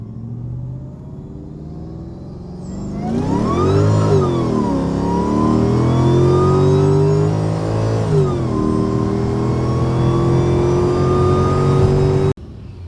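Supercharged Mercedes E55 AMG with the M113K V8 accelerating hard through a pull after a quiet start, engine note climbing loudly with a gear change around the middle, then holding strong until it cuts off abruptly.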